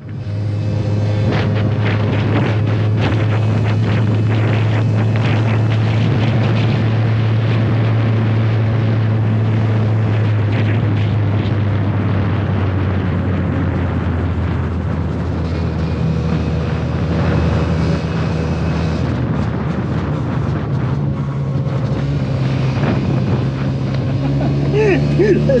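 A two-stroke scooter with a Dell'Orto carburettor and Leo Vince aftermarket exhaust, running on a 1:50 fuel mix, drones and hums steadily throughout while people talk over it.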